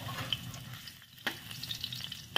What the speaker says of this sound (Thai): เอากระทะตั้งไฟใส่น้ำมันค่ะ ใส่กระเทียมสับ